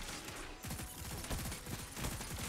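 Bursts of rapid video game gunfire in a multiplayer match, crackling in quick clustered volleys that start after a brief lull and continue to the end, moderately loud with no talking.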